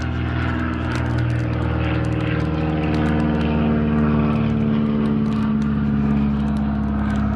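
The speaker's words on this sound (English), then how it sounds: "we have another plane." Propeller airplane flying overhead outdoors, a steady droning engine hum with a layered low tone that holds loud and continuous for several seconds.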